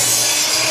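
Hand saw cutting a soft cedar board into a piece, a steady, close, loud rasping stroke that fills the whole brief moment without any voices.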